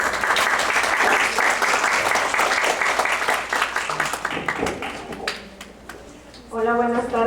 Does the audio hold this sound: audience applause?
yes